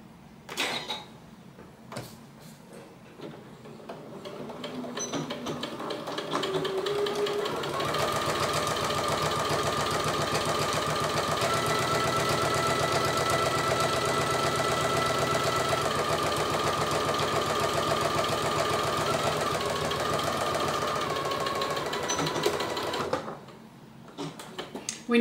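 A domestic sewing machine quilting Italian leather, starting with a few slow stitches and then running in a steady, fast mechanical whir for nearly twenty seconds before stopping, with a few clicks before and after.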